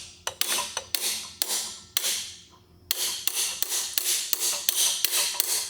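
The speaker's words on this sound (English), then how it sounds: "And then I'm gonna grab a hammer and I'm gonna try to aim for right here." A hammer taps an oil pickup into a small block Chevrolet oil pump: sharp metallic strikes in quick groups, close and fairly loud, with a short pause midway before a steady run of evenly spaced blows.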